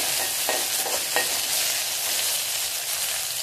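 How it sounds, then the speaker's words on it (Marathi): Moong dal being sautéed in hot oil in a pan for a quick capsicum dry sabji, giving a steady sizzle and frying hiss with a few soft stirring scrapes throughout. "थोडी तेलाबरोबर परतूयात आपण तिला।"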